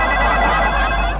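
Several telephones ringing at once in a home, a loud, continuous shrill trill close by with no talk over it.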